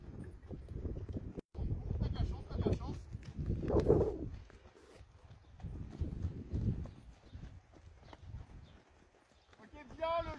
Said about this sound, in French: plus elle va monter en tension et donc elle va partir au trot dans l'allure supérieure